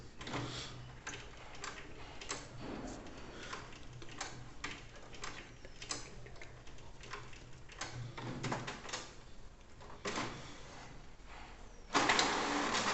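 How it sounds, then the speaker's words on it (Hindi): HP Ink Tank 115 color printer pulling paper while printing, rhythmic mechanical ticks, clicks and whirs close by, ending in a louder feed burst, no talk. "प्रिंटर जो पेपर है वो खींच रहा है"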